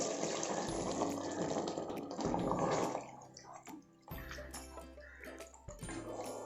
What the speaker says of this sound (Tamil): இப்போ தண்ணி ஊற்றிக்கலாம். 1 கப் தண்ணி சேர்க்கணும்.